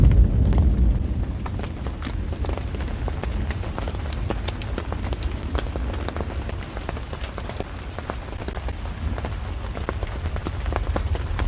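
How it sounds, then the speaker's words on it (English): Rain beats steadily on a tent roof overhead, a continuous close patter of drops with frequent crisp impacts over a soft low rumble, fairly loud and unbroken. "I love to hear the rain beating on the roof"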